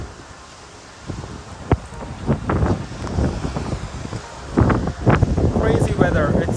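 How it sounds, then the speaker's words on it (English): Strong wind gusting on a Maldives island, a steady roar of buffeting against the microphone with rustling, swelling louder in the second half, while a person talks over it. "It's super windy since morning."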